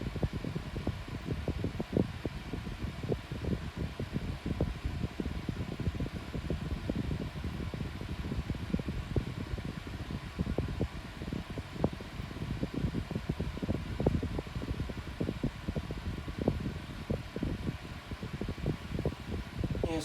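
A Dunelm 6-inch 2-in-1 electric fan runs on its lowest speed, giving a steady close whir with rapid fluttering blade pulses throughout and no talk.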